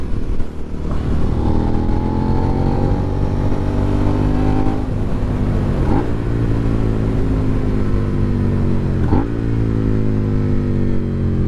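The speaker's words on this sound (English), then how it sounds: "For now, I'm gonna let the engine warm up, and then we'll put her through her paces" A Suzuki SV650 motorcycle engine idles loudly and steadily while warming up, a close, even rumble with a couple of faint mechanical clicks.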